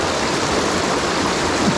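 A waterfall in a prehistoric gorge roars in a steady, dense, full rush of falling water, close and loud throughout with no other sounds.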